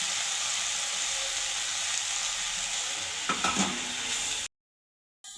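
A drumstick leaf stir-fry sizzles loudly and steadily in a hot pan, with a brief rustling flurry as grated coconut is tipped in and stirred through, then a short cut to silence.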